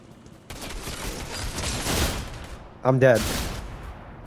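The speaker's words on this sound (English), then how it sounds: "Oh my god, there's someone shooting at me." Fortnite video game gunfire crackles in bursts, with a sharper volley near the end as a voice speaks briefly over it.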